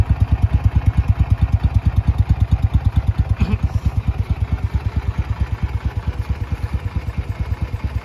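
A 1966 Marusho Magnum 500cc motorcycle idling close by, its low engine note pulsing in a steady, even rhythm throughout.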